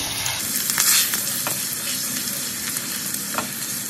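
Roasted curry leaves and green chillies stirred into a pan over a low flame for an upma breakfast premix: a steady, close sizzle with a few scraping stirs, fairly loud and even, no one speaking.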